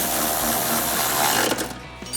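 A power tool drives a 13 mm socket to tighten bolts on a Barricade running board bracket on a Jeep Gladiator JT, giving a dense, loud buzzing rattle that stops after about two seconds.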